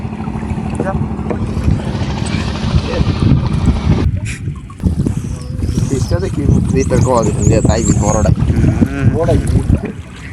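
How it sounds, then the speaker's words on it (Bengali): A fishing trawler's steady low engine drone rumbles beneath wind and splashing water on the Tetulia River as it approaches, with voices talking and calling over it throughout. "তো আরো একটি ট্রলার আসতেছে"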